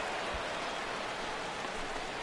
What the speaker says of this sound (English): this rain is definitely complicating matters out there. It's really coming down over the past 5 minutes or so.